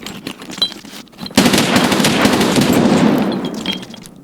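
Sustained automatic gunfire from the video game Escape From Tarkov, a dense roaring burst that starts abruptly after a short quiet stretch and carries on loudly for about three seconds before fading.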